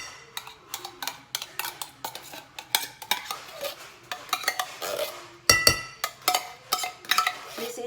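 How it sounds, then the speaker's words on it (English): Meatloaf ingredients are mixed in a bowl with steady, rapid clinks and scrapes of a utensil against the dish. A brief louder rattle comes midway, and the sound is close with no talking. "to make it easy to mix, just mix everything here"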